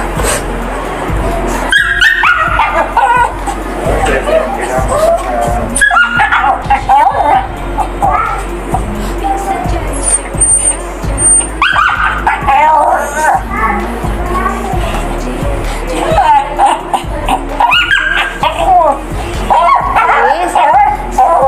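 A dog at a veterinary clinic barks, yips and whimpers in repeated bursts throughout, close and fairly loud, with people talking nearby and background clinic bustle.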